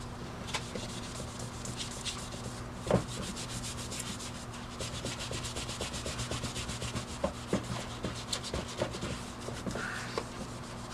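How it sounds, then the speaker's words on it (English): A Northwestern 60 vending machine's 25-cent coin mechanism is scrubbed clean of dirt, giving steady, close brushing and rubbing strokes in a quick rhythm, with a few sharper scrapes along the way. "so we can scrub it some more"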